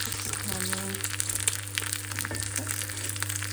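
An egg fries in a cheap frying pan, the oil sizzling and crackling steadily at close range, with a low electrical hum running underneath.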